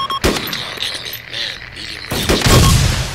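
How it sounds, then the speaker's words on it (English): A grenade goes off in Arma 2 as a sharp nearby blast, followed seconds later by another loud burst of explosive noise, with voices talking in between. "Oh, they threw a grenade."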